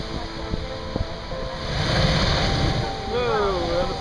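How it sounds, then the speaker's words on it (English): Ocean surf rolls and crashes in a steady wash on the Galapagos coast near a blowhole, swelling to a louder surge midway, with wind buffeting the microphone and faint bird-like calls near the end. "Let's listen to the sounds of the ocean and watch for the blowhole."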